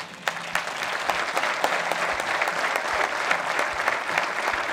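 Audience at a corporate convention applauding, a dense steady round of clapping from many hands, fairly close and continuous with no talk.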